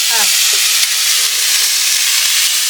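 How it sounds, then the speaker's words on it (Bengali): Crab fries in a wok with a loud, close, continuous sizzle and hiss. A few sharp clicks and knocks from stirring cut through it. "কাঁকড়াটা ভাজি হয়ে গেছে, আমি এখন নামাই নিচ্ছি।"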